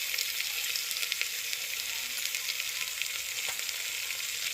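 Cumin seeds, fenugreek seeds and turmeric sizzle in hot frying oil for a Telangana bottle gourd chutney, a steady close hiss with small crackles and no talking.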